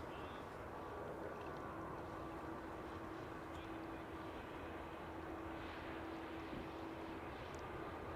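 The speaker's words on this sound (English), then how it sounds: "Lufthansa A319 next to take off from center" Lufthansa Airbus A319 taking off from the center runway at Amsterdam Schiphol, a steady jet roar with a faint high whine running through it, held at a fairly even level throughout.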